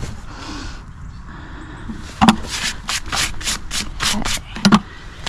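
A farrier's rasp works over a horse's hind hoof during trimming: rhythmic, scraping strokes, about a dozen in quick succession, close and moderately loud, after a quieter start.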